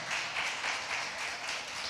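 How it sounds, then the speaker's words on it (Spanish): A church congregation claps together in steady, dense applause that holds at an even level throughout, with no voices rising above it. "Denle una ofrenda de palmas al Rey con todo su corazón"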